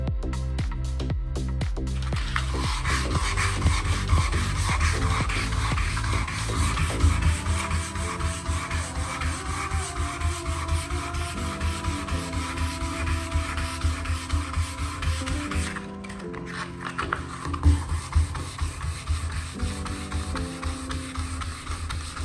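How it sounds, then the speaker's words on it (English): A reglazed bathtub is wet sanded by hand with 600 grit sandpaper, making a steady, close rhythmic rubbing and rasping that continues throughout with short pauses and shifts in stroke. "So I'll wet sand it with 600 grit to smoothen it out."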